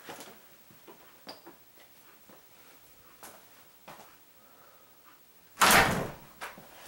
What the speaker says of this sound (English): opening the door, letting it close by itself